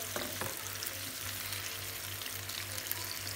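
Chicken sizzling steadily as it roasts in a pan, a dense close-up crackle with a faint scrape near the start and a low repeating hum beneath, no voices.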